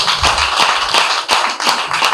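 Comedy club audience applauding, a dense burst of many hands clapping close and loud, continuous for a couple of seconds with uneven peaks.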